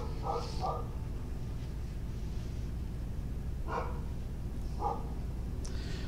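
A dog barks indoors in a few short bursts of two or three yips, spaced apart over a steady low game-music background.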